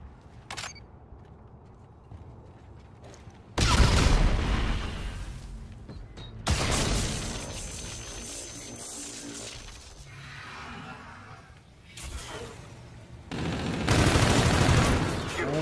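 OSA gunfire in a Call of Duty Search and Destroy match, with several loud bursts of rapid automatic shots separated by quieter gaps of game ambience.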